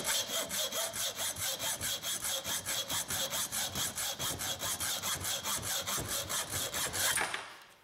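A hand saw cuts off the protruding end of a nail-fixed wooden piece while making percussion tools, with fast even back-and-forth rasping strokes, close and steady, ending as the piece comes free.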